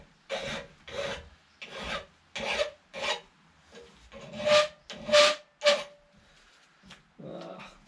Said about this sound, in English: I'll take a slightly finer file and just make sure there's no sharp burrs on there. You can probably hear it cutting.